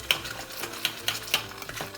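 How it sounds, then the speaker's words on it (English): Miso dengaku sauce heating in a pan on a home stove, with a spoon scraping and clinking against the pan in a few sharp taps over a soft, low simmering hiss. "So the sauce is being heated."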